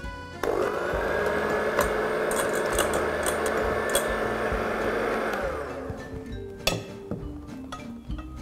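An electric mixer beats liquid ingredients for chocolate cake batter in a bowl, a steady whirring buzz lasting about five seconds that then cuts off, followed by a few clinks and knocks.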